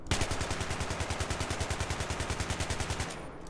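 Rapid automatic fire from an AK-74M rifle fitted with a reflex sight and heavy barrel in Battlefield 3, a single loud sustained burst of evenly spaced shots for about three seconds, then stopping abruptly.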